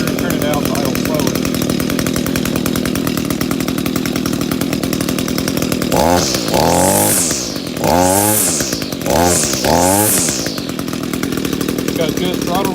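An Echo GT 200R string trimmer with a replaced carburetor runs with a steady, close, buzzing two-stroke engine note throughout, while someone talks over it midway.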